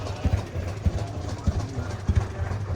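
An Oliver 1900 tractor with a GM diesel engine rolls past at a summer tractor show, a steady low rumbling drone with regular heavy thumps, moderately close.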